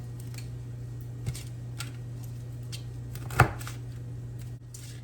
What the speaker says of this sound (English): I'm gonna start rough chopping the green peppers.